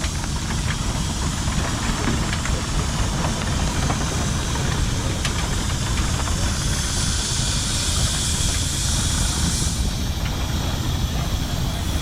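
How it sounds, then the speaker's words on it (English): Steady broadband hiss of a small model steam engine at a steam show runs throughout, with a low rumbling chug underneath and occasional sharp ticks; no voices. "today we're using a steam engine"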